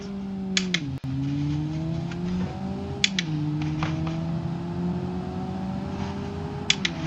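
A base-model Toyota Yaris with a manual gearbox accelerating in the BeamNG driving game, its engine note steadily rising in pitch through the gears with brief dips at shifts and a few sharp clicks, loud and continuous with no talk.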